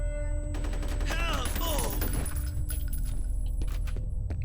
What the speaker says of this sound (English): Both chucking grenades at the same time